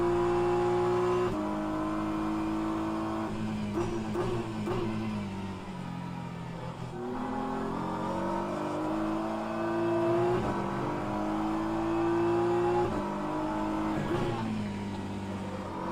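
Two BMW race cars lap Bahrain in the sim racing game rFactor 2 during an endurance race: a steady engine drone with rising and falling revs, gear shifts and brief tire scrub.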